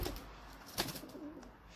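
Pigeons in a home loft coo softly in the background, a faint low murmur of calls with a brief sharper sound near the middle and no voices.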